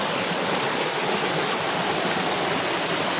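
A stream runs steadily along a creek bank during a fishing and vegetable-foraging walk, a constant, full-band rushing of water at even loudness, near and unbroken, with no voices over it.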